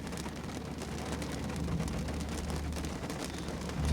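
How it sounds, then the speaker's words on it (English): Steady rain falls throughout, a dense even hiss with a low rumbling undertone, moderately loud and continuous with no voices. "I have to walk in the rain."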